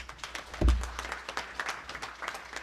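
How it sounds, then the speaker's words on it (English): Audience applause following a keynote address at a Gambian digital economy forum, a brief patter of clapping with one louder low thump near the start, fairly soft and slightly distant. "Another round of applause for that very fantastic keynote address."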